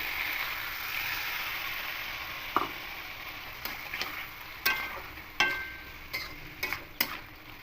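Masala for a vegetarian potato and soybean kosha being sautéed in a pan, a soft steady sizzle broken by a few sharp clinks and scrapes of a spatula against the pan, close and fairly quiet, with no talking.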